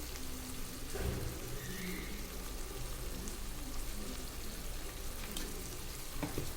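Andhra-style fish pieces fry in a pan with chilli masala, giving a steady, dense sizzle that runs unbroken throughout, with a few soft clinks and no voices.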